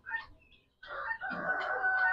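A rooster crows at a poultry and small-animal sale, a loud, drawn-out cock-a-doodle-doo that rises after a brief cluck, set against a light background murmur.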